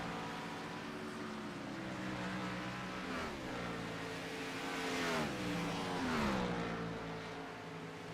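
Race car engines drone around the track at a FUEL Premier Series night race at Hotlanta with a field of 19 cars. Their whining notes rise and fall as cars pass at moderate distance, with no talk over them.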